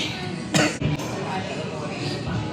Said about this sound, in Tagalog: Ito yung batang inuubo palagi.